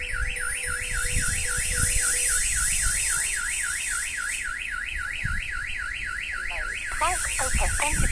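A StarLine S96 car alarm sounding, a loud rapid warbling siren that sweeps up and down continuously, then shifts to a different chirping pattern near the end, close and alone over faint background noise.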